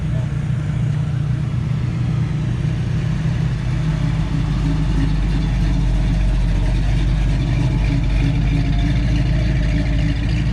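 Trucks idle at a rural truck show, a steady low engine rumble droning continuously and close by without a break, with faint voices now and then beneath it.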